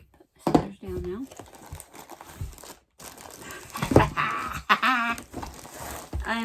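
Crinkling and rustling packaging as a Diamond Art Club box is opened, with close, irregular bursts of crackly handling noise and a few brief vocal sounds in between.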